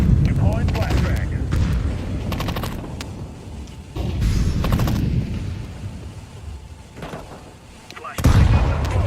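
Video game combat with gunfire bursts and explosive blasts, including a thrown grenade, loud and continuous with repeated sharp cracks and heavy booms across the span.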